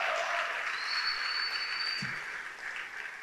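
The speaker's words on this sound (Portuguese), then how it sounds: "Se for para Jesus, pode dar um aplauso" A church congregation applauds during a sermon, a steady wash of clapping hands that fills the room at moderate volume and eases slightly near the end.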